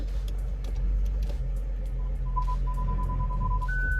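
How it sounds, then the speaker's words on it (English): A steady electronic beep of parking sensors sounds over the low engine hum of a BMW 535i reversing, holding a continuous tone that rises in pitch near the end. "Park sensors making a bunch of noise."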